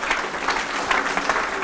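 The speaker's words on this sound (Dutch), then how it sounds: "Applaus voor Jannie Vink." Steady applause from an audience, a dense even patter of clapping hands that holds for a couple of seconds without voices on top.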